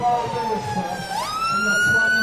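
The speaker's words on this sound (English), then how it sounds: "Let's let the ambulance go by." An ambulance siren passes along a city street near a protest, its wailing tone sliding down and then climbing as the vehicle goes by, loud over traffic rumble with no talk.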